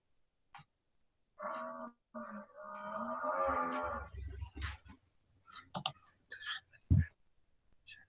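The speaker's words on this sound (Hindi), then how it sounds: "भाई भैंस बोल रहा है तुम्हारा।" A buffalo lows twice in sustained, tonal calls, fairly close, followed by scattered clicks, taps and a sharp knock in an otherwise quiet room.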